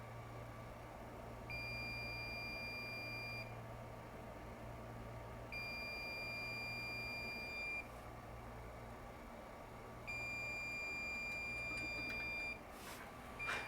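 A genuine Hakko soldering station stuck overheating far above its set temperature gives off three long steady electronic beeps, each lasting about two seconds, separated by pauses over a constant low hum.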